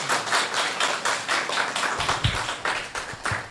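A live audience claps for a scientist after his talk on God and science, brisk, even applause of moderate loudness throughout, with no voices over it.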